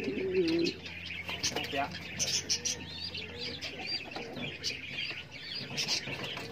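Pigeons coo and chirp in a loft, soft repeated calls scattered across several seconds over a low background hum, with a voice speaking now and then.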